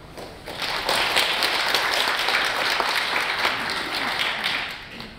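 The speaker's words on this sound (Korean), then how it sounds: "좋은 말씀 해주신 신홍복 원장님께 다시 한번 여러분의 힘찬 박수 부탁드립니다" An audience at a health talk show gives a speaker a steady round of applause, dense and even clapping that swells in, holds for several seconds and then begins to fade.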